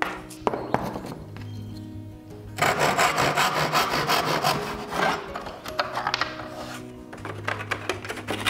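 Hand saw cutting a piece of scrap wood for a jacket hanger, rapid rhythmic rasping strokes close by, with quieter handling between bursts.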